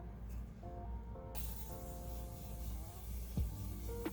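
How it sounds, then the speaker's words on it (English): A broadband burst of strawberry-scented setting spray, a Morphe and Jeffree Star collaboration, hisses in from the middle and holds steady, over a low background hum with faint tonal lines. "I'm just gonna spray my face with my Morphe and Jeffree Star collab strawberry spray"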